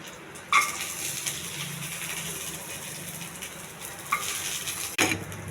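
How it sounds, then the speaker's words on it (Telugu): Garlic, cumin, mustard seeds and dried red chilies frying in oil in a pan, a steady soft sizzle marked by a few sharp clinks of the spoon against the pan. "ఈ కోసి పెట్టుకున్న ఉల్లిపాయ ముక్కలు ఇవన్నీ కొంచెం దోరగా వేగించాలండి, మాడకుండా వేగించుకోవాలి"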